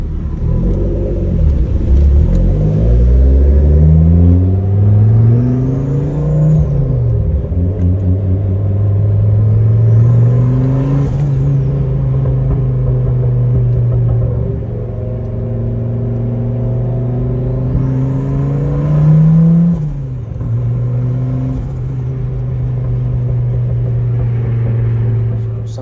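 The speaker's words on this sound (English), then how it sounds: "so the exhaust sounds good" A Porsche 944 with a swapped 07K engine rumbles through its exhaust, deep and loud, with several revs rising and falling over a steady idle.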